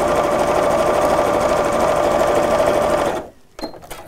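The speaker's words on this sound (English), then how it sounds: "sewing together in strips" Sewing machine joining quilt blocks into strips, a loud continuous humming run that stops abruptly near the end, followed by a few brief mechanical clicks.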